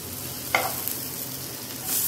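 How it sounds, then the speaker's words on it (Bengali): Ridge gourd slices coated in gram flour batter fry in a pan over lowered heat, giving a steady close sizzle with a brief scrape of a utensil. "আবার এই পিঠটাকেও একইভাবে আঁচ কমিয়ে ভালো করে ভাজা ভাজা করে নিচ্ছি"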